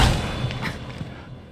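A single gunshot in the video game The Evil Within 2 opens with a sharp, close boom, then a rumbling tail fades into quiet.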